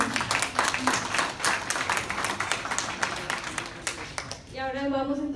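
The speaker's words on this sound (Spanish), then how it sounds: "Un aplauso a los 20 primeros" A coffee quality tasting event audience claps for the top twenty tasters, a brisk round of applause that thins out before a voice begins speaking at the end.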